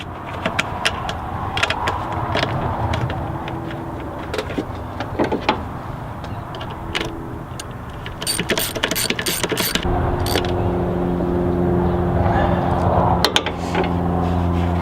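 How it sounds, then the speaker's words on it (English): Two resonator bolts are reinstalled on a 2007 Chevy Trailblazer, giving intermittent metallic clicks and quick tool rattles close by, with a busier burst of clicking partway through over a low background hum. "Reinstall our 2 bolts that hold the resonator on."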